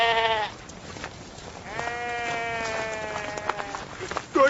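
A flock of sheep bleats in a drama, one clear bleat followed by a long, wavering one, with a rustling background and a short thump at the end.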